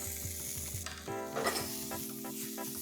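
Boiled potatoes with turmeric and spices tossed in a hot pan, a steady sizzle under rhythmic scraping and knocking of a utensil, close and fairly quiet, with no talking.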